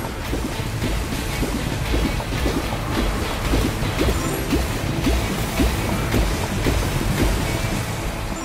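Fire truck hose spraying water in a PAW Patrol video game, a continuous loud rushing splash with churning, wave-like texture that holds steady throughout, with no voices.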